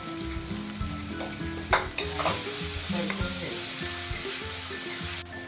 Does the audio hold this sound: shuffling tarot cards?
no